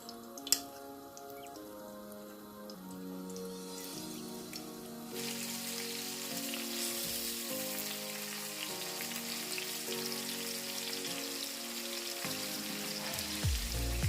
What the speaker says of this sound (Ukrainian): Тепер в яйці та відправляємо обсмажуватися на сковорідку